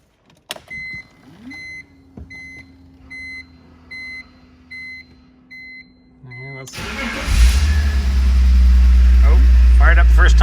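A BMW E46 turns over after a fuel filter replacement: a chime and regular dash warning beeps sound with a humming pump, then the starter cranks and the engine catches first time, settling into a loud, steady idle.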